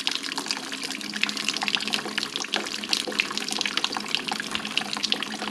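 Pink antifreeze mixed with stop leak drains straight out of the head of a 1UZ engine in a Hilux Xtracab. It sounds like a steady close pour or trickle of liquid splashing, continuous and fairly loud, with no talk.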